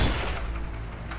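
A sniper rifle shot in Sniper Ghost Warrior 2, a first-person stealth shooter game: a single loud, broad blast with a booming low end that decays over about a second, heard alone without talk.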